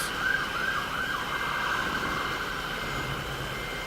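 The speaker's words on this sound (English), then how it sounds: "So that was three police cars, 1 ambulance, and 2 incident response units" Emergency vehicle sirens wail in Euro Truck Simulator 2, a steady rising-and-falling tone from passing police cars and ambulances over a low truck engine drone, moderately loud and continuous.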